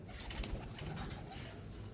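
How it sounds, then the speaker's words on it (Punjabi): Soft cooing of pigeons let out of their coop blends into a steady outdoor hum, with faint low murmurs and a few brief higher chirps scattered throughout. "ਕਬੂਤਰ ਤਾਂ ਸਾਰੀ ਬਾਹਰ ਨੂੰ ਨਿਕਲੇ ਆਏ"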